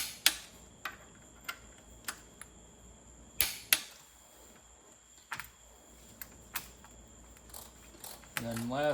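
Bolts being tightened on a 12-valve International engine's fuel delivery parts with a torque wrench give sharp, isolated clicks at uneven intervals over a quiet, close background, ending in a brief burst of scraping noise.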